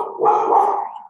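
Several dogs barking close by in a sustained burst, loud and continuous, with no talk over them.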